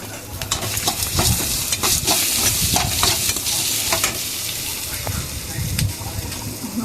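Ingredients stirred and frying in a pan, with a spoon scraping in an irregular rhythm over a constant close sizzle, and a voice speaking intermittently.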